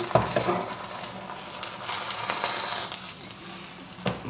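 An egg in bread frying in a pan with olive oil, a steady sizzle with scraping and stirring noises as it is worked loose for flipping, close and fairly loud with a couple of sharper knocks.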